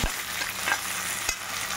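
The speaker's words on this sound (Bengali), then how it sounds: "টমেটোটা দিয়ে একটু ভালো করে নাড়বো।" Tomato is stirred into fried onions in a pan while cooking a pomfret fish curry. A soft, steady sizzle is broken by two scraping strokes of the spoon, with no voices.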